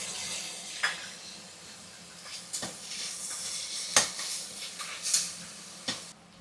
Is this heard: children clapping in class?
no